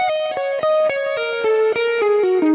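Electric guitar with distortion and effects plays a descending minor pentatonic lick that includes the flat 5. It runs through about ten clean, evenly picked notes that step downward and sustain with a slight reverb tail, with no talking.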